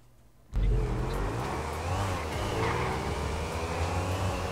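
A motorcycle engine in GTA V Online suddenly roars to life and holds a steady, loud drone with slight shifts in pitch as the bike rides on.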